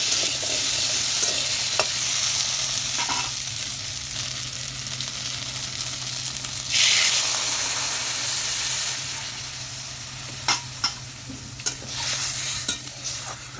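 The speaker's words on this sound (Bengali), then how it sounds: "আলু দিয়ে পেঁয়াজ দিয়ে কাঁচা লঙ্কা দিয়ে ভাজা করব" Potatoes, onion and green chilli fry in fish oil for a vegetable curry, giving a steady close sizzle and hiss throughout, with a few sharp utensil clicks and stirring scrapes near the end.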